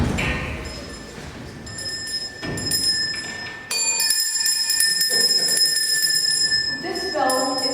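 A bell rings out with sustained high tones during a school debate between Bellver International College and Baleares International College, loud and steady over the room for several seconds.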